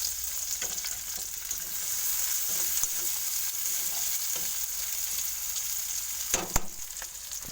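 Onions, with crushed cardamom, fry lightly in a pan, making a continuous close sizzle broken by occasional stirring scrapes and a brief clatter near the end. There is no talking.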